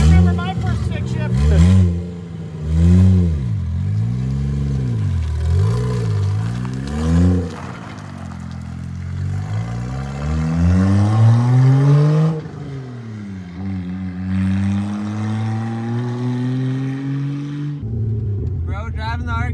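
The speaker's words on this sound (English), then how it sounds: "Bro, driving the RX7 finally" A Mazda RX7 FD fitted with a 1JZ engine drives along, its exhaust rising and falling through repeated revs and gear changes, then climbing in a long pull, with people talking over it.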